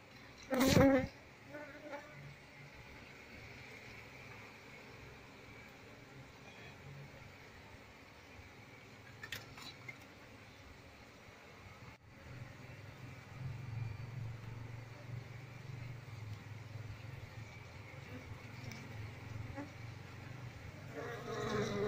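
An Asian honey bee (Apis cerana) colony gives a steady, low buzzing hum while its comb is turned over at a hive box. The hum is faint and continuous, with a brief knock near the start, and it grows somewhat fuller toward the end.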